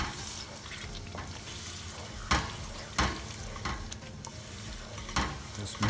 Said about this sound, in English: I'm going to add my Jalfrezi vegetables and just mix it and don't overcook it